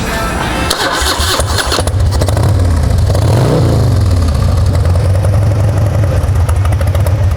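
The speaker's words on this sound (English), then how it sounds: "Let's fire this baby off and let you listen to it." A Harley-Davidson Dyna Wide Glide with an upgraded exhaust cranks, fires up and settles into a loud, loping idle after a quick throttle blip, close and alone without talk.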